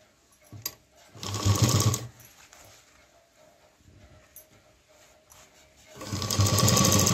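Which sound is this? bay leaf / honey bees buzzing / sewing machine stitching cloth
sewing machine stitching cloth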